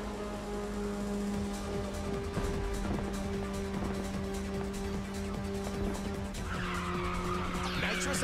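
A race car in Ridge Racer 6 drifts with nitrous ready, tires skidding and squealing under a steady engine drone, with a rising whoosh toward the end.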